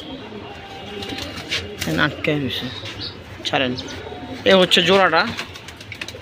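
Silver pigeons coo softly in the background while people talk close by over them.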